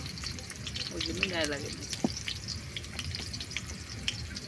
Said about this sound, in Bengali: আলুটা ভাজা হয়ে গেছে, নামিয়ে নিয়ে মাংসটা নিয়ে আসি